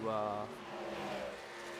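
Race truck engine droning steadily from inside the cockpit during an iRacing truck series race at Chicagoland Speedway, a continuous mid-level motor hum, briefly overlapped by a voice at the start.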